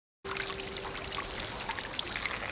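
A steady outdoor stream of liquid poured onto a person in a forest, a continuous splashing trickle that starts abruptly and runs without pause at moderate level.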